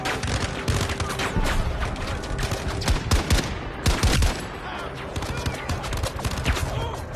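Heavy, cannon-like gunfire in the VR shooter Zero Caliber 2 at Richwood Airfield, with dense, loud volleys of shots and booms filling the scene, close and relentless, under occasional talk.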